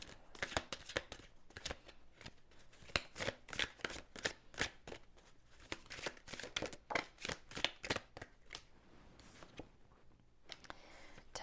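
Tarot cards being shuffled by hand in small chunks, a quiet, rapid series of crisp riffling flicks and slaps in uneven bursts, close and soft, with no talking.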